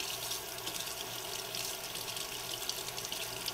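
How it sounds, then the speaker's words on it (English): A pet fountain filter is rinsed under a steadily running tap, with a continuous hiss and splash of water into a sink. "I typically will just take and just run it underneath the water"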